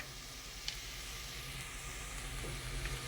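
A pan sizzles steadily as vegetables sauté, a constant frying hiss with a few faint clinks, no voices.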